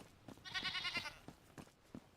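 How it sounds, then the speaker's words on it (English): A goat in a video game gives one drawn-out, wavering bleat, loud and near, set among soft game thumps and footstep-like taps, with no talking. "And I have a pet goat."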